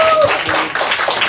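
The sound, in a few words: applause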